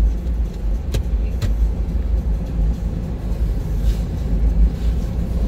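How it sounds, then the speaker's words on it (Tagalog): A top-of-the-line 2006 Toyota Innova on a test drive gives a steady low road and engine rumble from inside the cabin, with a couple of faint clicks. "So mag-test drive mi karon sa Innova 2006 nga Innova nga top of the line."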